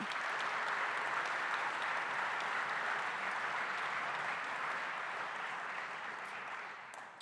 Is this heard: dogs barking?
no